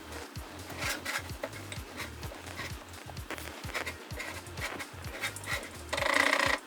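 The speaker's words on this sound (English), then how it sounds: "The dogs are busy hounding at something." Dogs make noise in the background in a home kitchen, a steady run of soft, rhythmic thumps and pants with a brief louder burst near the end.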